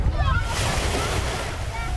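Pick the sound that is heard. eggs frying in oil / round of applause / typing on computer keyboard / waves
waves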